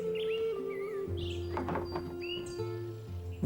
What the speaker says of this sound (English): Weird that there's like the chirping of birds and morning sounds in here